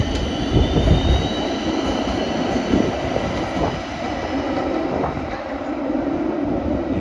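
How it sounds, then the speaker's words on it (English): A Helsinki tram wrapped in rainbow pride colors rolls past nearby, a continuous rail rumble with wheel squeal and light clatter, no talk. "Oh, a pride tram."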